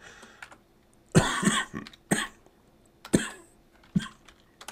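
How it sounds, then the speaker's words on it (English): A person gives a few short coughs and throat clears while working at a computer keyboard, several separate bursts spread close to the microphone with quiet pauses and light typing sounds in between. "Excuse the cough."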